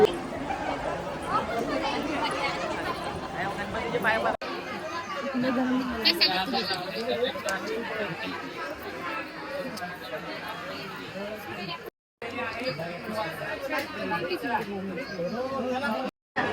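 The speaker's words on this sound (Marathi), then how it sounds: "फुल गर्दी आहे." Dense crowd chatter at the gate of Tuljapur temple, a continuous murmur of many overlapping voices close by, with a nearby speaker talking over it and brief dropouts near the end.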